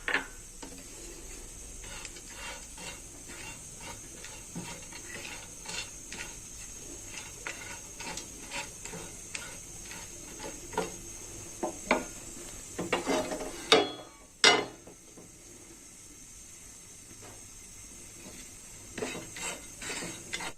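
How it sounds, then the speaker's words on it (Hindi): Almonds are dry-roasted in a pan and stirred throughout, giving a faint, steady rattle and scrape of nuts against metal with occasional louder clinks near the end. "यहाँ पे मैंने एक पैन लिया है जिसपे मैं ये बादाम रोस्ट करूंगी।"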